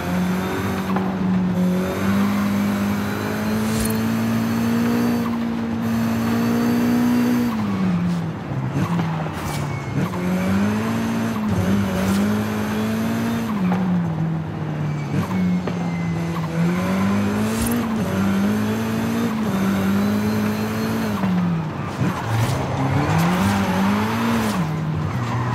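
Racing cars roar through a race in the video game Forza Horizon 5, with steady, loud engine tones rising and falling as they shift and corner, and possible tire squeal throughout, with no talk.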